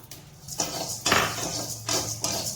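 Chana dal tipped into a pan with already-roasted urad dal for a coriander spice powder, giving a few close clattering metallic bursts of dry lentils and spoon against the pan, with a steady low sizzle between them.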